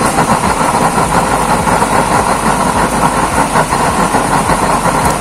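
A used-oil burner stove fitted with a new nozzle roars loudly and steadily, a dense continuous rumble that holds its full force throughout with no talk over it.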